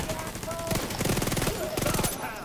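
Automatic turret firing in The Division 2, a fast continuous burst of rapid gunfire lasting a couple of seconds, loud and close, mixed with game effects.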